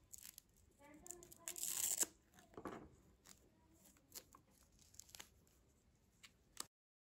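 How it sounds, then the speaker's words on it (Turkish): A velcro strap on a TTEC ExtremeCable 150 cm Lightning USB charging cable is pulled open with a short, rough tearing rasp, followed by faint handling rustles and light clicks nearby. "Şurada toplamanız için bir cırt bantı var."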